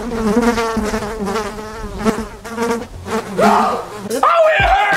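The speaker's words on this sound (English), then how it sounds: "We got bees in the house!" Bees buzz loudly and continuously inside a house, a dense droning hum with agitated, shifting pitch, close to the listener, with shouting voices breaking in near the end.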